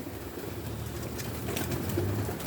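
Pigeons coo softly over a steady noisy background, low rolling calls repeating throughout, with a few faint clicks and flutters nearby.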